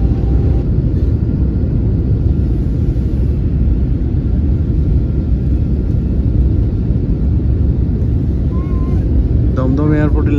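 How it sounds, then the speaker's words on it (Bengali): Passenger airliner cabin noise during the landing approach into Kolkata Dum Dum airport, a steady loud broadband engine and airflow roar that fills the whole stretch, with a voice speaking briefly near the end. "দমদম এয়ারপোর্টে ল্যান্ডিং হবে এবার।"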